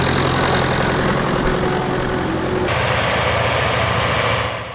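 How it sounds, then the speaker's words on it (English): A Standard Motor Company diesel engine in an ED40 tractor runs steadily at a working day, a loud, continuous mechanical drone with a low throb that shifts partway through and eases slightly at the end. "The ED40 used the standard motor company diesel engine, similar to the one fitted to the Massey Ferguson 35."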